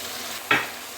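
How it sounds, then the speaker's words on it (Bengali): Spice paste for a Bengali dish hits a hot frying pan and is stirred, giving one brief sizzling, scraping burst that quickly fades back into quiet background. "যে গুঁড়ো মশলার পেস্টটা আমি বানিয়ে রেখেছি সেটা আমি এবার এর মধ্যে দিয়ে দেব।"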